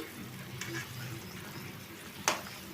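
Dried fish tamarind stew simmers in a pot with a soft, low bubbling and faint sizzle throughout, broken by a sharp little pop or clink near the end.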